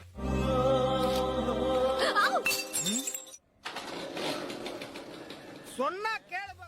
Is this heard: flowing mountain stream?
no